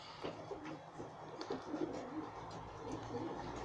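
Young racing pigeons, some with white beaks, cooing softly in a loft, low rolling coos repeating under a faint background hum.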